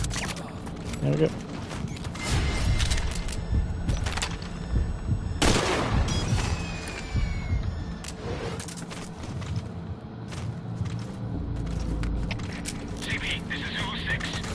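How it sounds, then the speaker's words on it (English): Gunfire in the stealth game Metal Gear Solid V, several bursts of shots and crackling fire spread through a busy game soundscape, mixed with radio chatter and a voice talking over it. "We're hearing gunfire."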